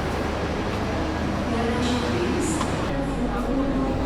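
Steady low rumble and hum inside an economy-class passenger train carriage running from Malang to Blitar, continuous and droning with a few brief higher squeaks, while a person talks.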